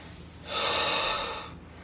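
One deep, sharp breath is drawn in through the nose during a wall squat exercise, a single rushing inhale of about a second, close and clear.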